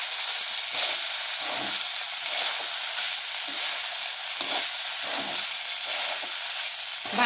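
Jeera rice gets stirred in a pan over a high gas flame, with a steady bright sizzle and hiss broken by regular scraping strokes of the spoon, close and fairly loud.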